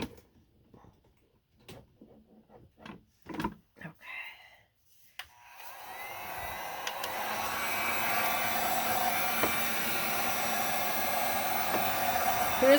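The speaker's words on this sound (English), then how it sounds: "I'm just going to use a dryer just to help this along a little bit." After a few faint taps and handling clicks, a hair dryer switches on. It blows air over a craft project with a steady, broad whoosh that builds and holds for about seven seconds.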